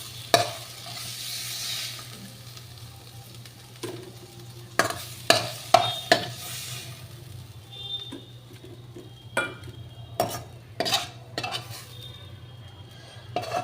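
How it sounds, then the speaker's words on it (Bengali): A ladle scrapes and clinks against a pan while cooked spinach is scooped out after the gas is turned off. Scattered metallic knocks come over a low, steady hum, with a faint sizzle in the background. "এবার আমি একটা হাতার সাহায্যে তুলে নিচ্ছি পালং শাকটাকে"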